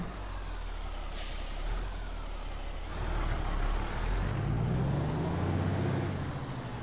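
A pink St. Jude's semi truck maneuvers nearby, letting out a sharp hiss of air brake release over its steady low engine rumble, which swells and settles as the rig swings around.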